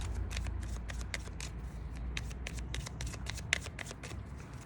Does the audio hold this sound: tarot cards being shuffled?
yes